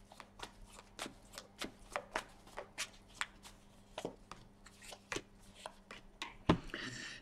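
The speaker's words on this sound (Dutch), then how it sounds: "Dus dan de kaarten schudden om te kijken wat voor de Weegschaal gaat brengen." Tarot cards being shuffled by hand for a weekly horoscope reading, a steady run of crisp close riffling snaps ending in a louder thump, with no talking.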